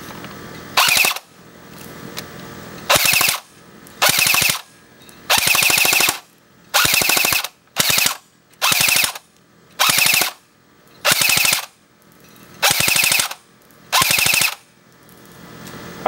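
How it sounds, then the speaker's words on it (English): An AGM Matrix MP40 airsoft gun fires at a tree outdoors about 125 feet away, in roughly ten loud, sharp full-auto bursts of about half a second each, separated by brief pauses, with no talking. "Mp40 shoots the tree well."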